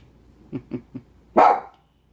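A dog gives three soft, quick yips followed by one louder, sharper bark, then falls silent.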